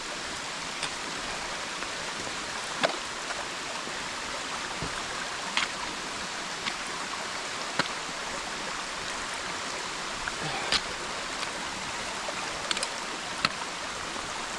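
A rain-swollen creek runs full on a wet day, making a steady, broad rushing wash with no letup, and a few faint clicks and knocks sound over it.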